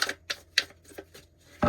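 Tarot cards shuffled in a few crisp, rapid riffling bursts, close and fairly quiet, ending in a louder burst.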